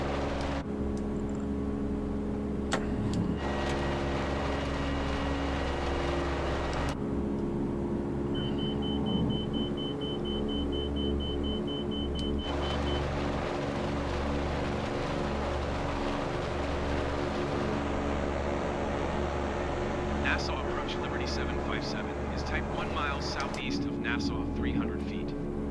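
The de Havilland DHC-4 Caribou's twin engines drone steadily at full power after takeoff in Microsoft Flight Simulator, a constant low hum under someone talking, with occasional cockpit beeps.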